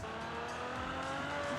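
A Ferrari in the racing game Forza Horizon 4 accelerates hard, its engine note rising loud and steady over a brief burst of game sound with no talking.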